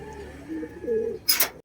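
A saddle hen pigeon gives a close, low throaty coo lasting about a second, followed by a brief sharp noise burst.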